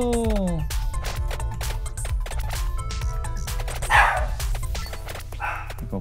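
A dog barks in a short series of yips and barks indoors, close by, over a steady low background hum and other household noise.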